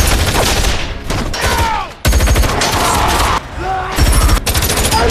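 Gunfight shootout from a film, with bursts of rapid gunfire and loud booms that break off briefly and resume, dense and close throughout, with music or effects layered beneath.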